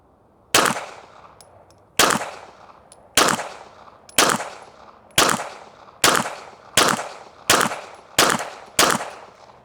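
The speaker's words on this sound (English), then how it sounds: "All right, 10 rounds from the Glock." Ten sharp gunshots from a Glock pistol fired at a target 20 yards away, loud and close, spaced roughly one second apart with quick decays and no talking.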